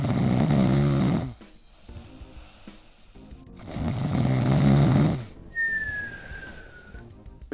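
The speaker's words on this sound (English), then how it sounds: "if your partner snores like that" Two long, loud snores, each a rough rattling breath lasting several seconds, separated by quieter breathing; a thin whistling tone trails at the end.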